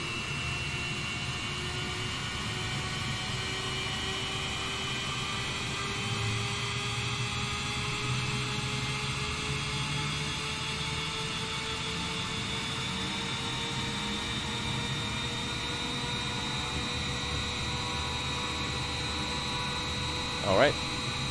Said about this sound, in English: And the right engine, listen to that sound, baby.